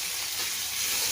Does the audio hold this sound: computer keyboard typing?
no